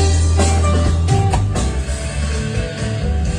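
Loud Filipino rock music with heavy bass, drums and layered instruments blasts from a 1200-watt 12-inch speaker set heard from about 15 meters away, continuous throughout.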